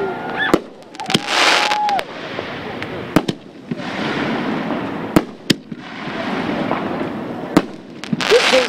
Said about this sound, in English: This is a 6-inch shell canister. Nice sounding report on these.